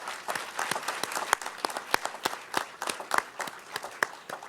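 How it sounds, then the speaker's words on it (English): An audience applauds at a college's ceremonial building launch, giving sustained, fairly dense clapping with sharp individual claps standing out over a few seconds, no voices on top. "let's give all the key players a great round of applause"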